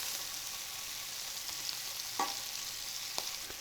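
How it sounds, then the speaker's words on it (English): Turkey sausages fry in a pan with a soft, steady sizzle, and a few faint scrapes and taps come as they are turned. "So after a few minutes, you remove the lid and you turn the sausages"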